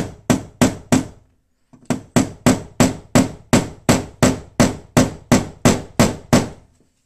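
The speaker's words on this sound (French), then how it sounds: "avec le marteau pour pas être embêté en fait, je vais faire un petit trou si vous voulez avec la vis" A hammer taps a screw into wood to start a pilot hole while a wall light is being fitted: four quick strikes, a short pause, then about a dozen sharp, evenly spaced blows, close and loud.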